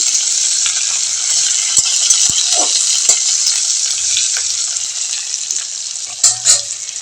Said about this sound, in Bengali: পেঁয়াজ ভাজা হয়ে গিয়েছে লাল করে